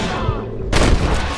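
Gunfire in the Western video game Red Dead Redemption cracks out in a loud, sudden burst halfway through, after a stretch of rumbling ambience, with the blast echoing briefly.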